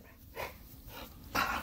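Three short, muffled dog barks, somewhat distant and faint, spaced evenly apart.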